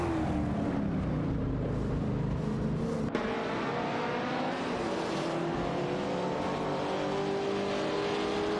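Race cars in an AI racing video game roar past one another, with a loud continuous engine drone whose pitch climbs and shifts as they overtake. No one speaks.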